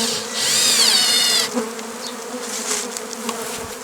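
A dense buzzing swarm of honeybees flying in to their hive close by in the evening, loud at first, then settling into a steadier hum with individual bees zipping past.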